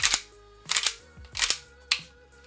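Novritsch SSP1 airsoft pistol being worked by hand after reassembly: four sharp metallic clacks of the slide, each short and close, spaced about half a second apart, with no talk.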